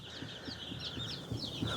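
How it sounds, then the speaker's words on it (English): Rhode Island Red chicks chirp and cluck softly in a busy flock of about 40, with repeated high peeping calls close by. "right now there are 40 Rhode Island Reds in here"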